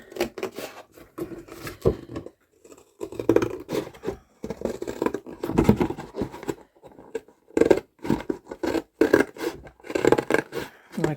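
Scissors cutting through cereal box cardboard, a series of close, crisp snipping and scraping cuts in uneven bursts separated by short pauses.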